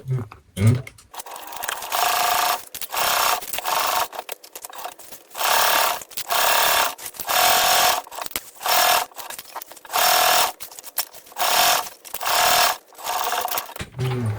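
Sewing machine top stitching a laptop bag, basted with the lining side up, running in repeated bursts of steady motor whir separated by short pauses, close and loud.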